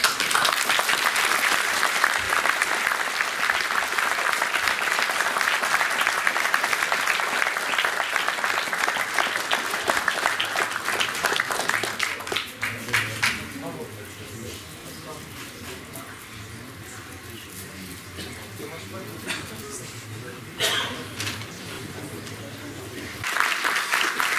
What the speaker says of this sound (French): je demande vraiment vos applaudissements les plus sincères